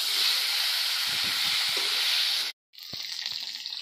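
Fish sizzling in hot oil in a pan for a rith fish curry, a steady loud frying hiss broken by a brief silent cut, then resuming with soft stirring clatters.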